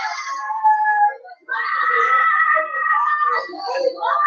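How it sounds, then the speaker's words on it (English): People screaming at the top of their voices amid violence in Southern Cameroon, long high wailing cries that rise and waver, nearly unbroken apart from a short gap, with a voice speaking over them. "You can hear the scream, people screaming on the top of their voice"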